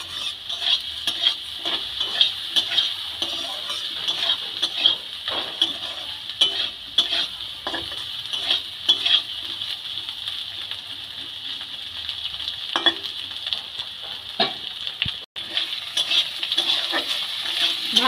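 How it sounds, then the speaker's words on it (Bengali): Bitter gourd and potato frying with ginger-cumin paste in a Bengali home kitchen, a moderate continuous sizzle broken by repeated scraping stirs of a spatula against the pan, with no voices. "আদা জিরে বাটা দিয়ে আমি উচ্ছে আলুটাকে একটু ভালো করে ভেজে নেব।"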